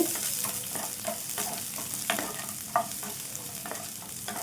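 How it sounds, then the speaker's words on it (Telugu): A chopped medium onion fries in a pan for a bitter gourd masala, giving a close, continuous sizzle with repeated scraping and stirring strokes scattered through. "ఒక మీడియం సైజ్ ఆనియన్ కట్ చేసుకొని వేసుకుంటాను. ఇదైతే కొద్దిగా కలర్ మారేంత వరకు వేయించుకోవాలండి."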